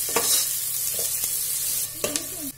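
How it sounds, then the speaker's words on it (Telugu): Chopped onions fry in a pan until golden brown, a steady close sizzle with occasional scraping stirs of a spoon against the pan. "ఆనియన్స్ బాగా గోల్డెన్ బ్రౌన్ అయ్యే వరకు వేయించుకోవాలి."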